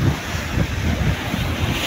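Large ocean waves surging around a fishing service boat out at sea, a steady broad rushing wash mixed with wind buffeting the microphone, close and loud with no voices.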